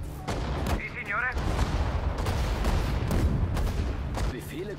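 Units in the Sudden Strike 4 war strategy game open fire in dense volleys of gunshots and booms, with brief radio-style voice callouts over the din.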